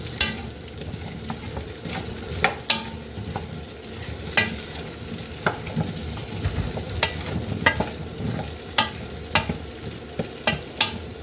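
Venison, potatoes and vegetables sizzle steadily as they brown in a pot, with the frying hiss running throughout and frequent sharp clicks and scrapes from stirring.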